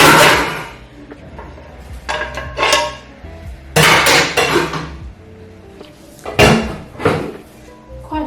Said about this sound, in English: Now get my pan out.